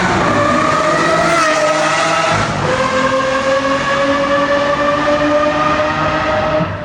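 An Aston Martin V12 Vantage S fitted with a Velocity AP exhaust runs loud and close, a sustained high-revving engine tone that briefly drops in pitch and then holds a steady harmonic note.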